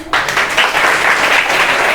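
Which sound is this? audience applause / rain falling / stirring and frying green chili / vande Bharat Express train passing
audience applause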